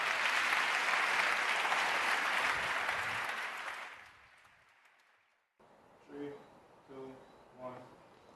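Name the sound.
audience applause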